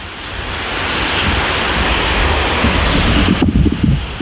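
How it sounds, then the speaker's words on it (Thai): Water rushes below a tall sluice gate on a river, a loud, dense and unbroken roar heard from above, with wind buffeting the microphone toward the end. "เราได้ยินเสียงน้ำนะทุกคน มันน่าจะอยู่ข้างล่างเรา น่าจะอยู่บริเวณพื้นข้างล่างตรงนี้"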